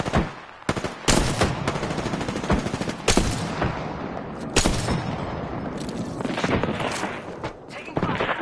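Rapid bursts of gunfire from the battle royale shooter Apex Legends, with sharp repeated shots and automatic volleys filling most of the stretch, loud and close, with a voice talking faintly underneath.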